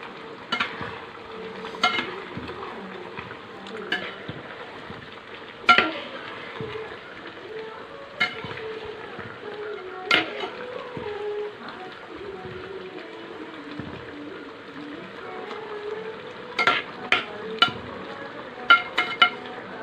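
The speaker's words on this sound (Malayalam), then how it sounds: "അപ്പൊ നമുക്ക് ഒന്ന് ഇളക്കി കൊടുക്കാം" Chicken curry boiling in a pot being stirred, a soft bubbling simmer with intermittent scrapes and knocks of the spoon against the pot, plus occasional faint voice.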